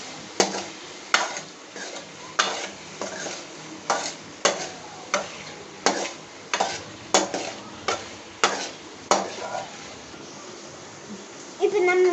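Okra (ladies finger) stirred and sautéed in a pan for sambar, a spoon scraping out steady rhythmic strokes roughly every half second over a soft sizzle.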